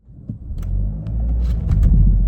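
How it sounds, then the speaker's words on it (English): A car with a failed Powershift gearbox pulls away and judders as it warms up, giving a close, swelling low rumble with uneven shuddering pulses and occasional knocks. "Yeah, see that judder?"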